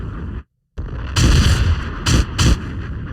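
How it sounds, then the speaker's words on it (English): A loud run of booming gunshot sound effects, several broadband blasts in a row after a brief silence, with no talk over them. "Gunshots."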